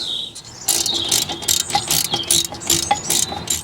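Ratchet wrench tightening the brake caliper guide pin on a mk1 Audi TT, a close, rapid run of metallic clicks in uneven bursts.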